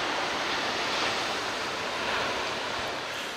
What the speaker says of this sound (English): we're at the Loch Surf Beach Lookout